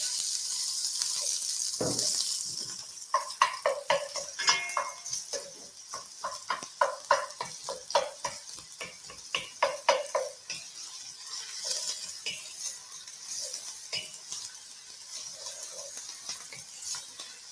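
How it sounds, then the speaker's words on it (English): Chopped onions sizzle loudly in a very hot pan, with rhythmic scraping and clinking as they're stirred, crackling steadily throughout. "pan's super hot, and I've got my onions chopped up, and boom, they go in"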